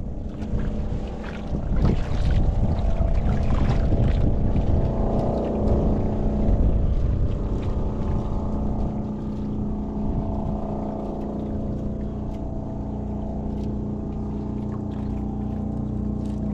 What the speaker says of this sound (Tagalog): Lapit ng isang bangka.